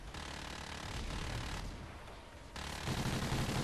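Gunfire from the boss in Call of Duty: Ghosts Extinction rattles as a dense, continuous burst under a constant noisy game mix, moderately loud and without clear breaks.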